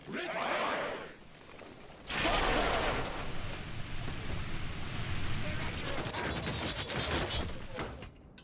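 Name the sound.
musket volley fire in LOTR Remastered video game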